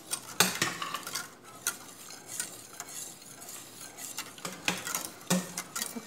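Gelatin mixture bubbles in a pot with a faint, steady simmering hiss, punctuated by sharp clinks of a utensil against the pot.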